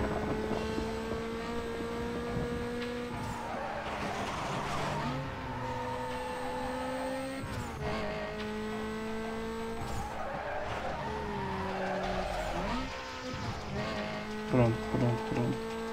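Car in the Need for Speed Most Wanted racing game braking hard and skidding, with long loud tire squeals layered over a steady engine drone, while someone talks over the game sound.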